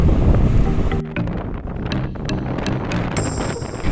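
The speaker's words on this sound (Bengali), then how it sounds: "এখানে প্রচুর হাওয়া, মানে কথাই বলা যাচ্ছে না" Strong wind batters the microphone on the deserted Mandarmani beach, a steady loud roar with gusty swells and flapping.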